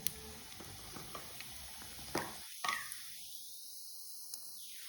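Seeds sizzle and crackle in hot oil, a fine steady hiss with small pops, which then drops away abruptly to near silence.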